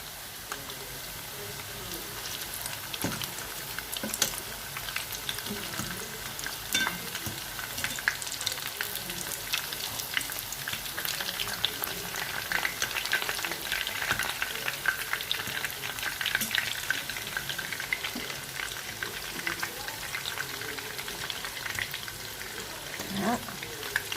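Cooked cauliflower fries in a pan for a tajine, giving a steady, close sizzle with scattered scraping clicks as the pieces are turned on every side.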